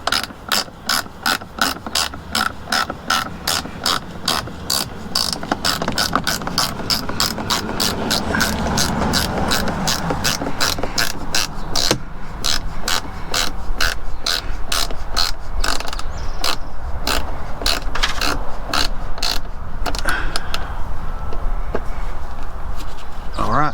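A ratchet wrench tightens a bolt while a dash bar is installed in a vehicle, giving a long run of rapid, close, crisp clicks that keeps up steadily with brief pauses.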